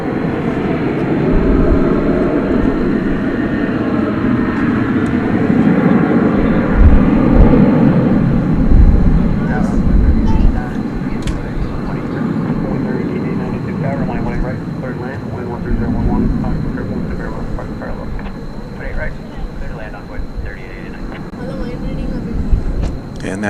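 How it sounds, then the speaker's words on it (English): At night, an Airbus A380 rolls down the runway at Dallas Fort Worth airport, its engines a sustained, broad roar that swells and slowly fades, with someone talking over it throughout. "And that A380 is approaching the point where we would expect it to take off"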